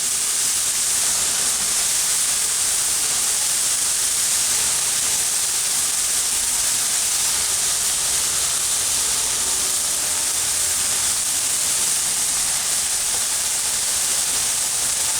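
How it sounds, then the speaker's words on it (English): Onions sizzling on a hot griddle for In-N-Out style burgers, a steady, dense hiss that holds evenly and fairly loud throughout with no pauses or talk. "I'm going to throw some onions on here"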